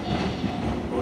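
A six-car train in Yokosuka-colour livery pulls into Toyoda station on a local service bound for Kofu, making a brief, dense rumble of wheels and rolling stock at close range.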